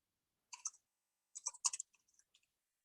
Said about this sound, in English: And then I have to type in my password.